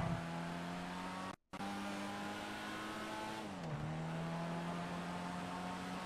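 A race car in a GTA V Grand Prix, its engine holding a steady droning tone that cuts out briefly, then resumes and drops in pitch as it shifts, loud and continuous with no talking.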